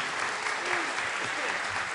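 An audience at an ASCAP songwriter celebration applauds a singer-songwriter with dense, steady clapping that holds at an even level for the full two seconds, with faint voices mixed in.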